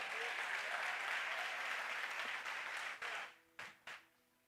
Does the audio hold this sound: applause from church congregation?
yes